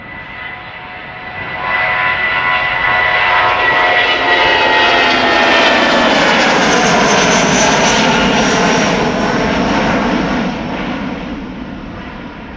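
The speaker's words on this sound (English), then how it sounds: "18-year-old airplane, first flight February 2006." Airliner engine roar at Schiphol Airport, an 18-year-old plane first flown in 2006, swelling loud as it passes close, holding a broad steady rumble with a rising whine, then easing slightly toward the end; no talk.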